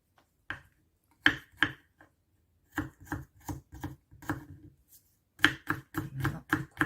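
A knife chopping garlic on a board, heard as short crisp taps in uneven bursts, some strokes quick and some spaced apart, close and clear against a quiet room.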